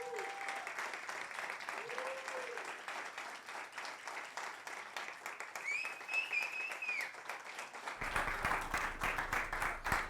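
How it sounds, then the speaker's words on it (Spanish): An audience applauds a man after an interview, a broad crowd clapping that keeps up throughout and swells louder near the end, with a voice briefly heard over it early on. "Yo quiero que le demos un gran aplauso"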